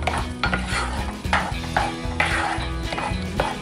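Scrambled eggs with sour cream being stirred in a pan, a steady rhythmic scraping and soft sizzle repeating every half second, close and moderately loud.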